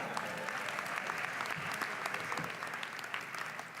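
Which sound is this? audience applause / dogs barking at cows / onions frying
audience applause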